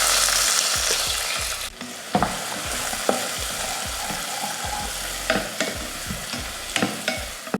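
Onions fry in hot oil with mustard seeds and cumin, a loud continuous sizzle broken by repeated scraping knocks of a spoon stirring the pan, close up.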